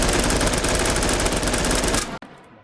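Sustained automatic fire from a new MW3 gun in the VR game H3VR, dense and loud for about two seconds, then cutting off abruptly into near silence with a faint tail.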